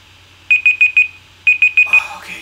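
An alarm goes off with rapid bursts of loud, shrill beeping in groups of four, pausing briefly between groups, with a voice starting to speak near the end.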